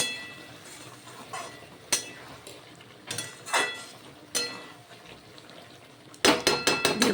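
A spoon stirs a thick cooked flat bean curry (sim jhal) in a pan, giving a series of scattered scrapes and metallic clinks, with a faster cluster of knocks at the end.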